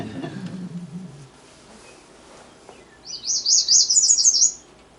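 A thin, high squeaky black-and-white warbler song of rapid two-part notes repeated in a seesawing series, clear against a quiet background after a brief low murmur.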